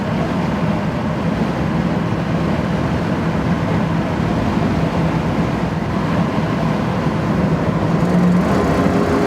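A 1967 Ford Mustang GTA convertible with a 289 V8 accelerating hard on automatic kick down, a loud continuous engine drone with road and wind noise rising steadily from inside the car.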